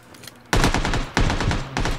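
Suppressed gunfire in the video game PUBG, three loud rapid bursts of muffled automatic shots with short gaps between them, close and punchy.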